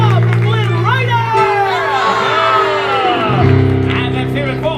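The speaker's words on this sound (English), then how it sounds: "And can we get a hearty huzzah for Flynn Rider?" Audience at the Tangled Rapunzel stage show in Fantasy Faire at Disneyland shouting and whooping for Flynn Rider, crowd cheers layered over sustained music and voices.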